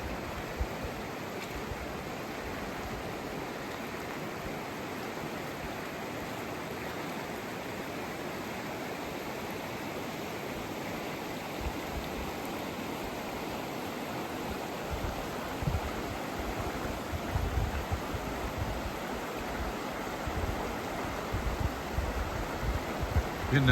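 Mountain stream rapids pour past a backcountry camp in a constant, full-bodied rush of whitewater, close and loud, swelling slightly toward the end with no talk.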